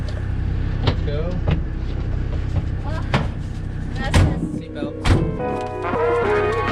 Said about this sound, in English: Getting a ride in a land cruiser.